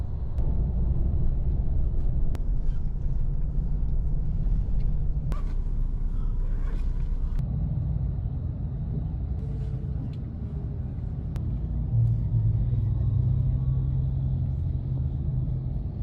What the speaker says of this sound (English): So for now, I'm in bus 1 going to Paris.